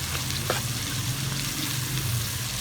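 Diced potatoes and capsicum fry in hot oil in a pan, a steady, dense sizzle that holds without a break, with a light stir or scrape near the half-second mark.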